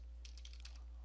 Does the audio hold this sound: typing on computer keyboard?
yes